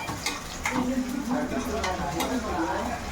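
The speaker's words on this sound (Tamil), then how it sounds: "கருவாடு கருவேப்பிலை சும்மா ஒரு அலசிட்டு அப்படி எண்ணெய்க்குள்ள போட வேண்டியதான்" Dried fish and curry leaves frying in hot oil for karuvadu kuzhambu, giving a steady close sizzle with occasional stirring clinks from a utensil against the pan, while a person talks over it.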